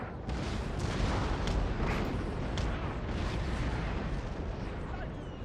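Cannon artillery fires in the Napoleon: Total War video game during a Great Britain campaign battle, several booming shots rolling together into a dense, continuous barrage at moderate loudness.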